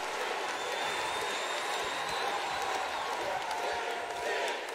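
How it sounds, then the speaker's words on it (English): Steady, loud roar of a virtual arena crowd at a WCW Saturday Night wrestling match in WWE 2K19, filling the whole stretch without letup, with commentary likely running over it. "Listen to this crowd."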